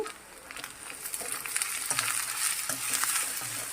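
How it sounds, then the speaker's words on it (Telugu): Shredded cabbage and carrot stir-frying with chilli powder for street-style veg noodles, a soft continuous sizzle with repeated scraping and tossing strokes of a spatula, close and fairly quiet, without speech. "క్యాబేజ్, క్యారెట్ మంచిగా వేగిపోయాయి."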